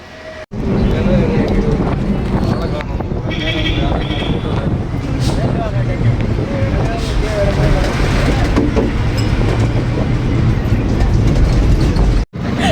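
A loud, steady motor rumble and road noise from an auto rickshaw ride, running the whole time with rattling and mechanical clatter while people talk in the cabin.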